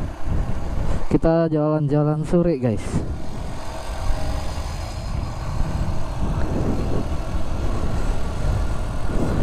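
A Honda Astrea Grand motorcycle engine hums steadily while riding through a town in Madura in the late afternoon, a rough continuous drone with wind noise, and someone speaks briefly near the start.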